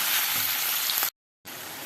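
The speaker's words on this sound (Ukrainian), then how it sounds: "так підсмажуємо, протушуємо їх хвилин 15, поки що без сметани" Mushrooms fry and stew in a pan, giving a steady, close hiss of sizzling that cuts out briefly and then resumes just as loud.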